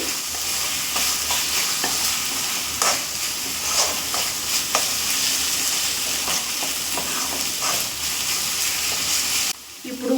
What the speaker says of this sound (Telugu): ఇవి వేసి బాగా మిక్స్ చేసుకోవాలి